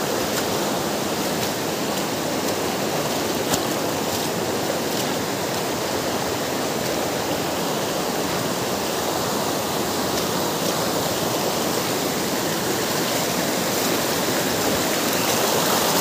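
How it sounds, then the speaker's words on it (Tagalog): A strong stream rushes and churns steadily, a loud, unbroken roar of water close by that stays constant throughout with no talking. "Grabe, tignan yung lakas ng tubig na to."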